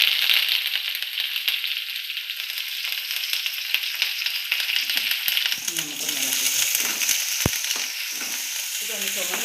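Shallots and curry leaves sizzle steadily in a hot pan after mustard seeds have popped, a dense frying hiss throughout with a sharp clatter near the end and a voice talking quietly beneath.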